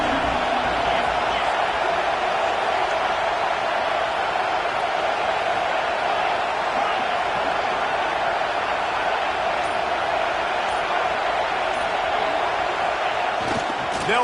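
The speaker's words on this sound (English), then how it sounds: "Listen to this crowd just shaking the girders of this place" A college football video game stadium crowd, Ohio State against Michigan, keeps up a dense, constant roar throughout, loud and unbroken.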